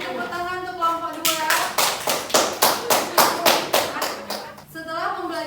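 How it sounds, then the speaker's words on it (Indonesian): A classroom applauds a student group after a chemistry lesson on redox reactions, with about ten loud, evenly spaced claps in unison. Voices are heard just before and after. "Beri tepuk tangan untuk kelompok 2"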